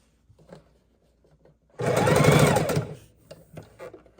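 A sewing machine stitches face-to-face fabric pieces for half square triangles in a single loud burst of about a second, with faint handling sounds before and after.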